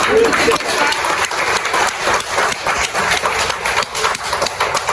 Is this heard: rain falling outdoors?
no